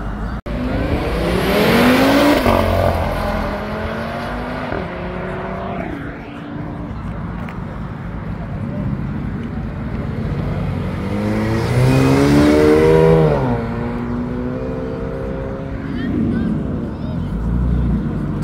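Loud sports car engines rev and roar as cars accelerate past one after another at a supercar meeting, with rising pitch sweeps and crowd voices in the background.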